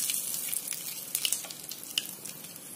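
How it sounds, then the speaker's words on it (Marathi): Curry leaves hit hot oil for a tempering for raw mango chutney, giving a close, bright crackling sizzle with sharp pops scattered throughout and no talking. "कढीपत्ता टाकायचा आहे."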